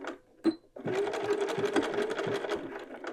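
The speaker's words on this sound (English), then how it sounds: "I'm just sewing down the edge of the button band" A sewing machine fitted with an edge stitch foot sews along a garment's folded armhole edge: a couple of soft clicks, then a close, steady run of rapid stitching.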